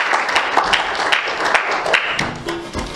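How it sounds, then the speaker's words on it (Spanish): Applause from a church congregation during a youth Bible reflection, a loud, continuous burst of clapping filling the whole moment with no voice over it. "Dale un aplauso al Señor en esta tarde"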